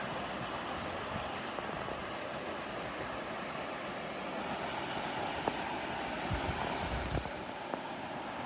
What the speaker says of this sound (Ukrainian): Водопад не дуже великий, але доволі шумний.